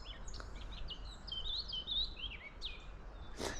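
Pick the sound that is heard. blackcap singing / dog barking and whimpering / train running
blackcap singing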